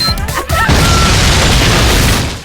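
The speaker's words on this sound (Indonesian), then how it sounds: "sebuah bom meledak tepat di depannya" A bomb detonates in a game scene, a loud sudden boom followed by a sustained crashing roar of debris that slowly fades.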